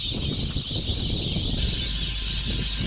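Whistling ducks and other birds fly overhead in the Tanzanian wild, a dense, continuous chorus of high whistles and calls blending into a steady wash of sound at moderate distance.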